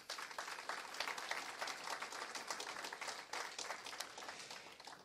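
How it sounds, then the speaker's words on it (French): An audience applauds the pianist at a university graduation ceremony, a steady, dense wash of many hands clapping at moderate distance that carries on evenly for about five seconds. "Je vous demande d'applaudir notre pianiste, s'il vous plaît, Mme Claire Duguay."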